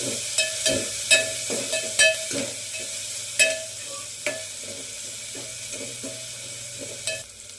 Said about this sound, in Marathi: आता एक कांदा घेतलाय एक टोमॅटो आणि थोडा कढीपत्ता तेलामध्ये चांगलं मारून घेऊ व्यवस्थित परतून घेऊ